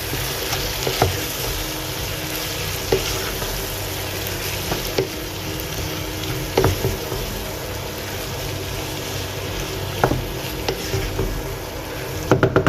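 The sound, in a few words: prawns, potato and okra frying and being stirred in a pan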